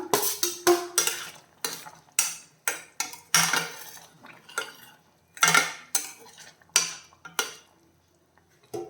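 Fried okra goes into a pot of boiling curry amid a string of sharp metal clanks and scrapes from a spoon against the pot, each knock brief and close, with quiet gaps between them.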